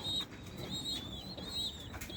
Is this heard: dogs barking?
no